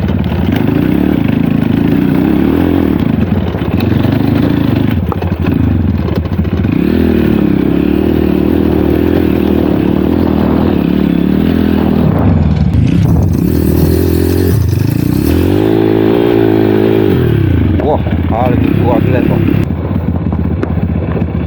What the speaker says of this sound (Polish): ja tylko trochę gazu dodaję, a to od razu trakcję gubi